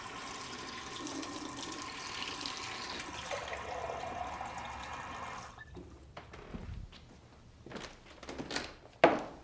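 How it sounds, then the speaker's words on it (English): Warm water runs steadily from a tap into a sink for about five seconds, then stops, followed by a few soft clunks and thumps and a sharper knock at the end. "So let's go get some warm water."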